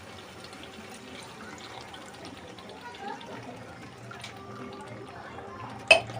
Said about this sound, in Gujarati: આપણે અંદર પાણી એડ કરીશું